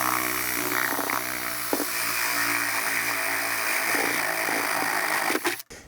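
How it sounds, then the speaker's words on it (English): A power drill with a 19 millimeter bit bores a dowel hole, a steady loud whirring grind holding for several seconds before winding down abruptly at the end. "this is a 19 millimeter drill bit here"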